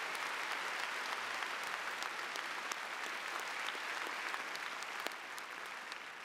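Audience at a Raytown High School honors ceremony applauds students recognized for National Forensics League membership, a steady, fairly faint, distant wash of clapping from a large crowd with scattered sharper claps.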